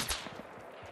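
Gunfire in Fortnite rings out from a lake, a brief, soft burst of a few faint shots that sounds far off, with no voices.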